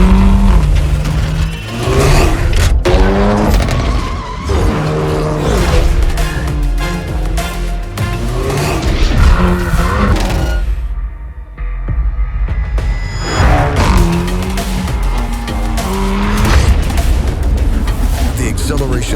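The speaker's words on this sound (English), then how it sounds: "The acceleration starts as soon as your foot touches the pedal." A Hyundai Elantra N sports sedan engine revving and accelerating, loud throbbing revs rising in pitch with sharp gear-shift breaks and crackles, a short lull midway, mixed with a narrator talking and backing music.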